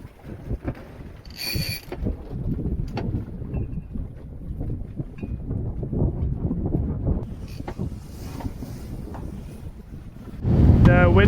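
Wind and waves around a sailboat off Jamaica: a steady low rumble of water and wind buffeting close to the microphone, with a brief voice early on and a louder rushing gust at the end.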